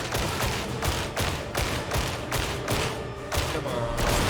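Rapid volleys of gunfire from multiple snipers in the video game Darktide, a loud, dense barrage of repeated cracks and thuds that continues steadily throughout without pause.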